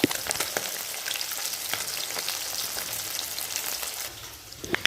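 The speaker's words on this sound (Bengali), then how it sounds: "তো এখন দেখো মাছগুলোকে ভেজে নিচ্ছি" Pieces of rohu fish frying in hot oil, a steady close crackling sizzle with scattered pops and spits, continuous and fairly quiet, with no talking.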